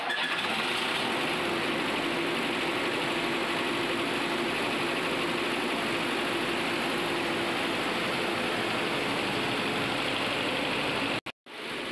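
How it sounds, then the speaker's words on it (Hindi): A Greaves 4G11 engine runs steadily and smoothly after a full overhaul, a close, continuous mechanical drone with an even idle and no talking, cutting off abruptly near the end. "ओवरहालिंग के बाद इंजन स्मूथली रन कर रहा है"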